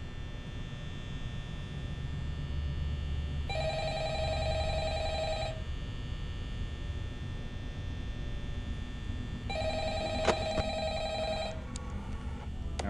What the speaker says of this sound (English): I want to answer the phone. Where is the phone?